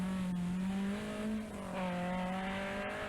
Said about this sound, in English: her Nissan 240 RS is caught out on the wrong tyres